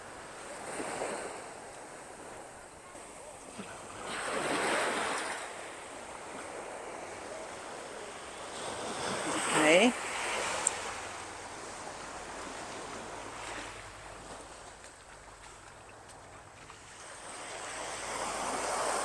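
Ocean surf rolls onto Bavaro beach in the Dominican Republic, with waves breaking in slow, repeated swells every few seconds and wind buffeting the microphone throughout.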